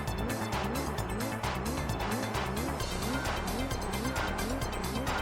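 A race car in Gran Turismo 3 A-spec revs in a loud, continuous, rhythmic drone of repeated engine pulls and shifts, with tire squeal mixed in throughout.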